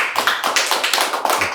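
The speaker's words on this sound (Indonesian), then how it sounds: "Tepuk tangan ini." A small group claps during a relaxed talk-show conversation about an Ironman triathlete: quick, close, slightly uneven hand claps in a steady patter for the whole moment, with no voices over it.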